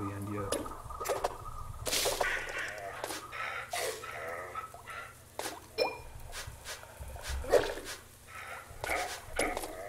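Dog barking in a platform video game, short sharp yaps and whip-like cracks scattered irregularly among game effects, with a player talking in between.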